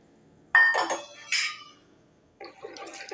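A spoon clinks against a large glass of water while capsicum soup mix is stirred in, two quick bursts of bright clinking near and clear, then a pause and a softer run of taps.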